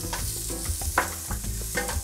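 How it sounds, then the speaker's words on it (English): Onion sautéing in oil in a pan for picadillo, with a steady broadband sizzle and repeated stirring scrapes and knocks throughout, close and moderately loud. "Now we're going to saute the onion."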